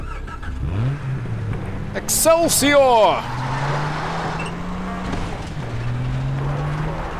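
A car engine in Far Cry 3 hums at a steady drone, revving up with rising pitch sweeps, alongside a brief burst of game sound effects and a short spoken exclamation.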